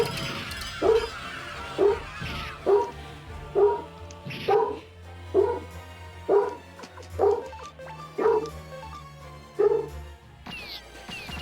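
A dog barks about a dozen times in a steady, evenly spaced rhythm, each bark sharp and fairly close, with a faint background hum between them.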